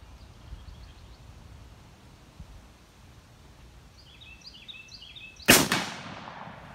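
A single sharp shot from a .356 Winchester rifle, a sudden loud crack with a brief echoing decay, preceded by several seconds of quiet outdoor ambience with faint bird chirps.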